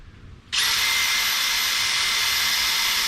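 A power tool, such as a drill with a wire brush or similar attachment, cleans the axle plate on a 1957 Chevy. It starts abruptly after a short quiet moment and then runs as a loud, steady, high-pitched whine to the end.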